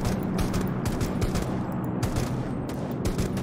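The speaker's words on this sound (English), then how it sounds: "it's a bot shooting at the bot guy" Gunfire from a bot shooting at another player in the Rules of Survival battle royale game, a dense, continuous crackle of overlapping shots with many rapid bursts filling the whole stretch at steady loudness.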